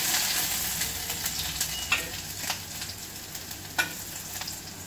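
Garlic frying in hot oil in a kadhai, a dense, steady close-up sizzle with a few sharp clicks of a spoon stirring through it.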